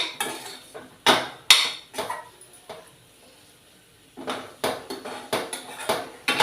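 A spoon stirring raw banana curry in a pot, with several sharp metallic clanks and scrapes in two bursts separated by a quiet pause.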